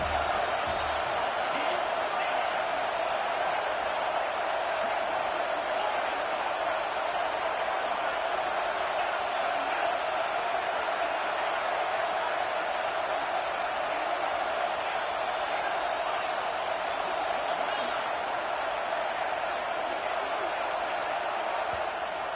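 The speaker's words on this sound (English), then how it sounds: "how nice is it to have the home crowd going absolutely bananas?" A home crowd at a Tennessee versus USC college football game roars loudly and steadily from the stands, a dense wall of cheering with commentators talking over it.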